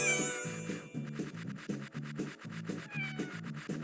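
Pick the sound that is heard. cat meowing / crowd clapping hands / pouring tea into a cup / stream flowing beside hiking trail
cat meowing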